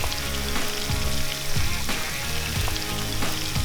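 Food sizzles and crackles steadily in hot oil while a meal is cooked for a full crew outdoors at Scenic Rim, a dense, continuous frying sound with no voices.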